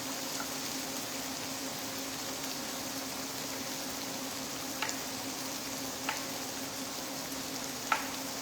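Mince frying and bubbling away in a pan as it dries and caramelises, a steady, soft sizzle with a low hum beneath and a few faint clicks of a utensil scattered through.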